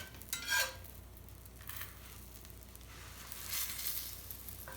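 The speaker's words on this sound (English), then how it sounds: "See that, hear that sizzle?" A quiet sizzle hisses faintly in a pan, with a few soft clinks and scrapes of utensils against it, rising slightly near the end.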